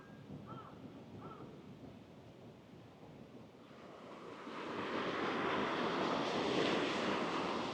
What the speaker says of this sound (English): I never knew they had kind of a waterfall back here by this bridge.